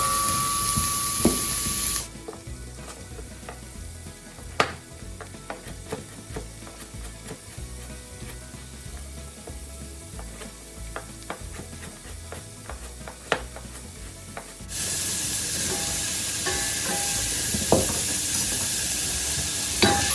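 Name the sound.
stirring carrots and celery sizzling in olive oil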